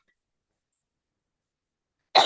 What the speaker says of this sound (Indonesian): Afwan, agak batuk-batuk.